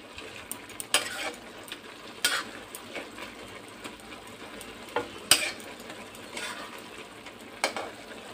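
Chopped bottle gourd simmering for Bengali lau ghonto in the water it releases, a quiet soft bubbling sizzle with occasional louder stirring scrapes and clatters against the pan.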